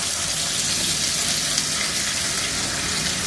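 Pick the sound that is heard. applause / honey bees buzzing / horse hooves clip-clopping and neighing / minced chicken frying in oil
minced chicken frying in oil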